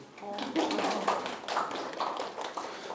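A short stretch of clapping from several hands, with voices talking over it.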